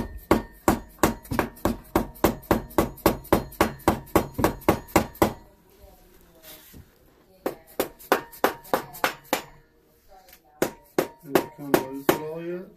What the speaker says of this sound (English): We took the hammer and put it in there.